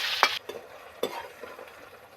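Oil sizzles and crackles as okra deep-fries, with a few scraping stirs of a utensil cutting in at intervals.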